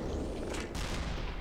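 An explosion in the video game Black Mesa, a loud, dense burst of rumbling blast noise that holds steady through the short stretch, with no voices.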